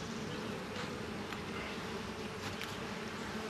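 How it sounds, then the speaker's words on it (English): Guard bees buzzing at the front of a beehive after the entrance is disturbed, a steady, faint, continuous drone of many insects with no talking. "When you mess around the front of a hive, you always piss off the guard bees."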